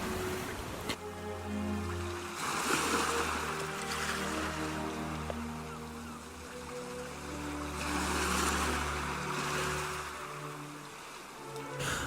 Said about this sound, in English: the sound of the soft waves slowly crashing against the shore